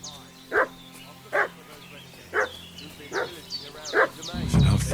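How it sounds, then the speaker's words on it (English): A dog in the Kingdom Come Deliverance 2 game barks repeatedly at a steady pace, about five sharp barks over several seconds against a low ambient game background, ending with a louder rumble. "What's that dog making such a fuss about?"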